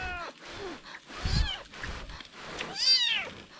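A small wild kitten in a deep forest mews several times in thin, high, wavering cries spaced a second or so apart, close by, with low rustling and soft human voices in the background.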